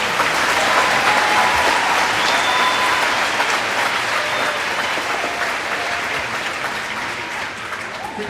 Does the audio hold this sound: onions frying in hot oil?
no